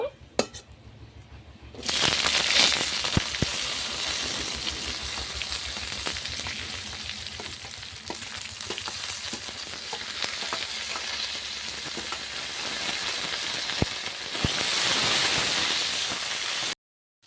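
Cut okra with panch phoron tempering goes into hot oil, bursting into a loud, continuous sizzle after a quiet start, with clinks of a spatula against the pan throughout.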